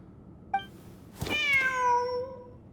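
A cat in a video game meows: a short chirp, then one long drawn-out meow, clear and close against a quiet background.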